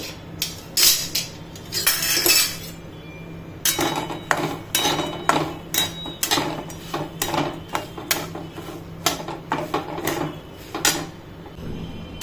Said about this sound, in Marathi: आता मस्त छान अशी इथे भाजून घेते मी डाळ